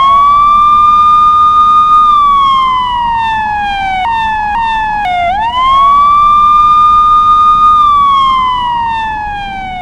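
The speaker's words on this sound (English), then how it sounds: "The victim is reporting annoyance of sirens in the area." Police siren wailing loud and close, a long rising and falling tone broken midway by a few sharp yelp bursts before the steady wail resumes and gradually fades slightly.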